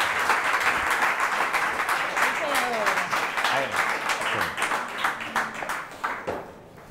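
A studio audience breaks into hearty applause, dense, steady clapping for several seconds with voices speaking over it, then fading out near the end.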